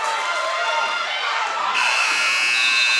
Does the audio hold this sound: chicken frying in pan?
no